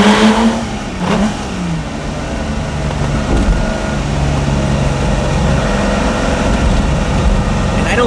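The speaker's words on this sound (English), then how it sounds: "what's remarkable to me is just how quick these cars rev" A Lamborghini Miura SV engine revs up quickly and loud, a steady mechanical roar that holds for several seconds, with a faint voice in the background.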